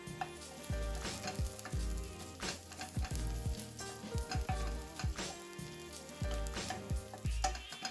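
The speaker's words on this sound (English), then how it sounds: "add the chopped garlic from earlier, along with the red pepper flakes. Give it a stir and allow it to cook for about a minute" Chopped garlic and red pepper flakes sizzle quietly in olive oil for vegan pasta puttanesca, a soft frying hiss broken by repeated low knocks and scrapes of stirring.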